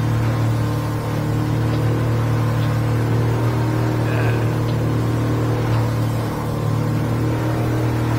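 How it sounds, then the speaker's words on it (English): A motorboat engine runs at full throttle with the trim tabs raised, a loud, steady low drone with rushing water, continuous and unbroken, no voices. "Now I'll give it full throttle."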